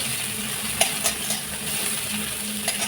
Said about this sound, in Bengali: এবার ডালটা ফোড়ন করে নেব ওর সাথে পাঁচ ফোড়ন আর শুকনো লঙ্কা দিয়ে দিয়ে দেবো